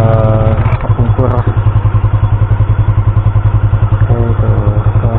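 A motorcycle engine runs steadily and close by in a residential village, its low pulsing drone constant throughout with some clattering, while people talk over it.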